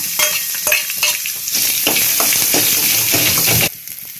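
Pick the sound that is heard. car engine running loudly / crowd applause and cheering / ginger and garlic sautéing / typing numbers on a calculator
ginger and garlic sautéing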